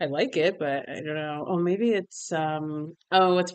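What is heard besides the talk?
None of the usual background noises is heard.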